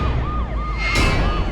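Wailing ambulance siren sweeping up and down in quick repeated cycles, loud and close over street rumble, in a tense emergency scene.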